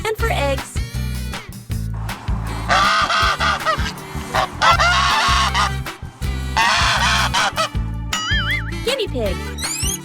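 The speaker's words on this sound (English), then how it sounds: "Goose. This is goose." A farm goose honks in loud repeated bursts, three or four harsh nasal calls in quick succession, clear and close, with brief gaps between and a short spoken voice at the end.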